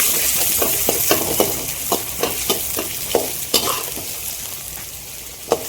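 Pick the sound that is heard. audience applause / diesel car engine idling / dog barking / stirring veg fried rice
stirring veg fried rice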